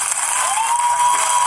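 Studio audience of a Sid Roth television broadcast applauding, a steady wash of clapping held at even loudness throughout, with no voices over it.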